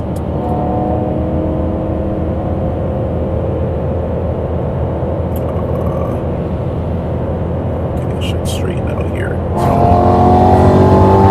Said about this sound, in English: I really just love the way this car pulls